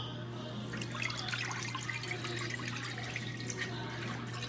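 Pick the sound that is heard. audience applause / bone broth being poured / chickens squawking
bone broth being poured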